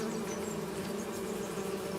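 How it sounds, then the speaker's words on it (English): Bees in the Farming Simulator 25 game produce a steady, dense buzzing hum at moderate level, continuous and unbroken, with no talking. "There's my bees I was looking for."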